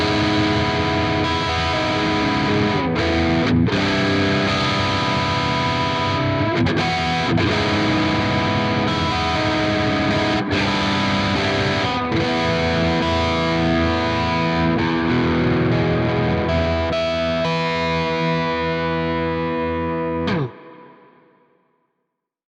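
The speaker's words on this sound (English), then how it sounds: "add a reverb from Quad Cortex. And let's go for the modulated reverb, roll off some of the lows and highs" Electric guitar played through a modulated reverb on a Quad Cortex unit, lows and highs rolled off: sustained, shimmering chords and notes ring continuously at steady loudness, then the wash cuts out and decays into silence near the end.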